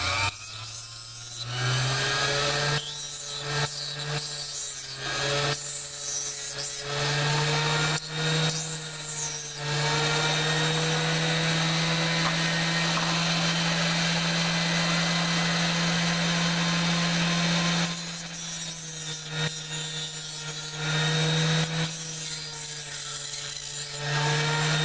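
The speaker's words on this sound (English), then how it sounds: "And what we'll do is very quickly grind these down" Small metal parts for a DNA 75 box mod, held in pliers against a grinder, give a steady close whine under harsh rasping bursts that come and go, with one long continuous stretch in the middle.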